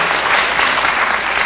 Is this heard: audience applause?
yes